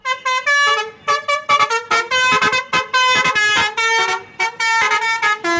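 Melodic telolet horn of a blue bus blaring loud and close, a rapid run of musical toots in a repeating tune with short gaps between bursts.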